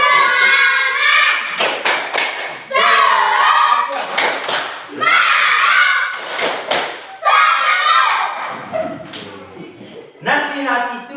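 A standing group performs a rhythmic tepuk semangat spirit clap: loud bursts of clapping and thumping patterns, alternating with chanted voices, repeated several times up close.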